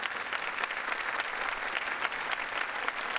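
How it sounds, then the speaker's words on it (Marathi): A crowd of audience members at a comedy stage show claps steadily, a dense, even wash of applause heard from a little distance and fairly soft throughout. "कृष्णाजींसाठी एकदा जोरदार टाळ्या झाल्या पाहिजेत"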